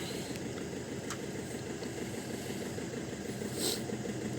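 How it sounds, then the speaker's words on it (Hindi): A 2019 Maruti Suzuki Swift with an automated manual gearbox idles steadily without acceleration, a low continuous engine hum with a couple of faint clicks, no voices. "मतलब इंजन को स्टार्ट कर दो आइडियल के ऊपर, एक्सीलरेशन नहीं देना है।"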